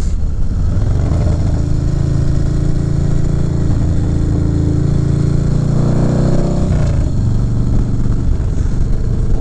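Motorcycle riding along uneven highway pavement, a steady loud engine drone with wind rush and a brief surge in pitch near the end.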